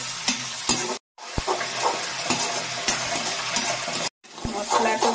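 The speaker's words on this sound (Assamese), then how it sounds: "ভালকৈ ফ্ৰাই কৰি ল'ম।" Meat masala and chili powder fry with peas in a pan: loud, close sizzling with scraping stirs, broken by two brief silent gaps, without talking.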